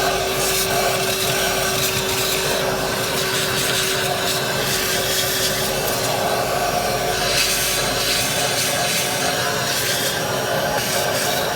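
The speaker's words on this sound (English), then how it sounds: "I'm gonna vacuum some of this stuff out of the inside of this thing" A shop vacuum roars steadily with a constant motor hum, cleaning out the inside of a 12 kW Powertech generator, its tone shifting slightly as debris rattles and scrapes through the hose.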